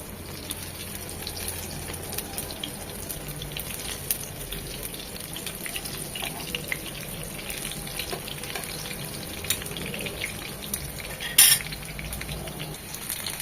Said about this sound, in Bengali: মোটামুটি এপিট উপিট 6 থেকে 7 মিনিট উল্টিয়ে পাল্টিয়ে ভেজে নিলেই প্রথম স্টেপে ভাজাটা হয়ে যাবে।